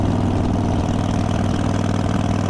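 A Harley-Davidson motorcycle engine idles steadily and loudly up close, a continuous low rumble with an even pulsing throb and no other sounds.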